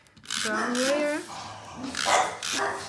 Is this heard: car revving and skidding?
no